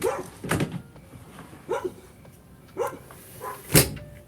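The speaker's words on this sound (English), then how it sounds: "Dogs are too loud." Dogs bark outside, four separate loud bark bursts spaced about a second apart, each sharp and fairly close, with quiet gaps between.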